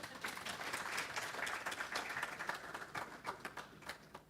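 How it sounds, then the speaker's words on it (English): Symposium audience applauding, a dense patter of many hands clapping at moderate distance, steady throughout with a few sharper individual claps near the end. "So can you kindly give them another round of applause?"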